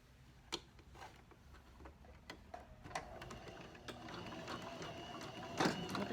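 A sewing machine stitches a cornered seam in fabric with a few backstitches, producing quiet intermittent mechanical ticks and short clattering bursts close by that grow busier toward the end.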